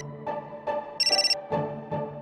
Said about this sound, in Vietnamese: Là điện thoại ở nhà.